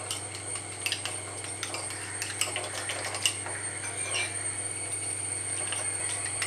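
Chilli powder, garam masala and salt are mixed in a bowl with a spoon, producing soft, steady clinks and scrapes close by over a low background hum.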